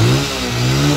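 A motorbike engine revs close and loud in a short, steady burst of throaty mechanical hum.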